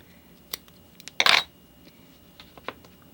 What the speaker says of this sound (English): Some of the double-sided foam tape that I use, like so, out to there, and we'll cut that.